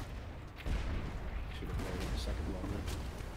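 Ship cannons boom repeatedly in the pirate video game Blazing Sails, heavy thuds and rumbling blasts mixed with game ambience while a player talks over them.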